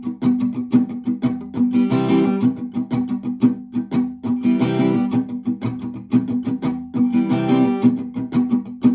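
Steady acoustic guitar strumming through all of verse 2 of a song in the Old Phone Pub arrangement, close and loud, with regular accented strokes and muted percussive hits repeating in a consistent rhythm.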